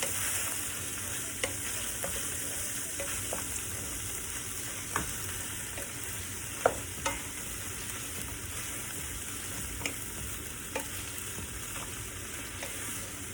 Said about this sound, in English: Stir it all around. Turn my heat down a little bit.